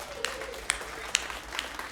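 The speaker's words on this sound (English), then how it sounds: "Clap if we have any Catholic people here." Scattered sparse applause from a small comedy club audience, about four distinct claps standing out over faint background room noise.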